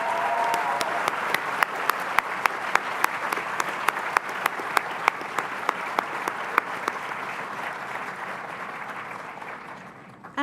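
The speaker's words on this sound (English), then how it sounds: "Please give her another round of applause, everybody." Applause from the audience at a graduation ceremony, a sustained even patter of many hands with a few loud close claps marking a regular beat, continuing for about ten seconds and slowly thinning out at the end.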